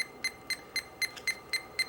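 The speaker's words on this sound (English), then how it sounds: "The meter will beep at you if the leads do not match your setting up here" A multimeter sounds a rapid warning beep, a high, evenly spaced series of about seven short tones, clear and close with nothing else over it.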